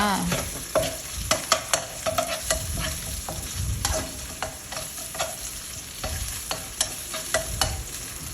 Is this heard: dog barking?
no